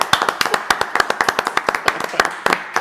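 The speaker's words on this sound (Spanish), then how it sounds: "recibámoslo con un fuerte aplauso a José" Close, sharp hand claps from a small audience welcoming a guest named José on a Franciscan television program, a fast irregular run of distinct loud claps with no voices over them.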